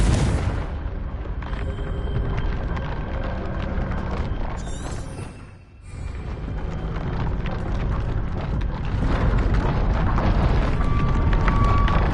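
A Confringo blasting spell goes off in Hogwarts Legacy, a loud, dense booming roar of explosion that fills the scene, dips briefly near the middle, then surges back at full strength with no talk.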